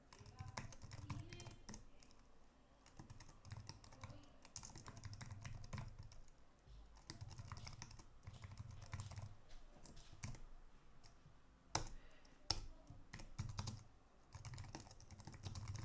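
Computer keyboard typing code, rapid irregular clicks and keystrokes throughout, fairly quiet and close, with a low hum underneath and a few louder isolated key strikes.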